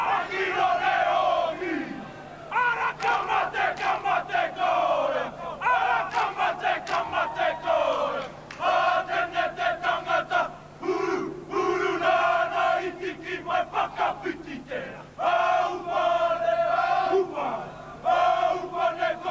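A large stadium crowd at a sports match roars and chants in rising and falling surges, with loud rhythmic bursts of shouting and clapping that keep breaking off and starting again.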